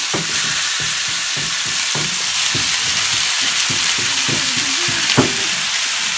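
Meat sizzles steadily in a hot pan, a dense crackling hiss with scattered pops and a few soft utensil scrapes nearby.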